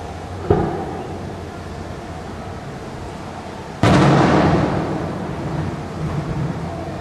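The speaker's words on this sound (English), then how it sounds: "it's become kind of a nice wake-up call from our naps, that cannon firing." Cannon fired from a pirate ship flying the Jolly Roger: a small sharp pop early on, then a loud booming blast with a long rolling decay fading over several seconds, outdoors at a distance.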